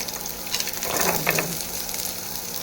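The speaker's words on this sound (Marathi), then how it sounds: "ह्याच पॅनमध्ये ना तूप घालू, 1 चमच. कांदा टाकू," Chopped onion sizzles in a spoonful of hot ghee in a pan while tomato soup is being prepared, a steady close crackle that swells briefly as the onion goes in.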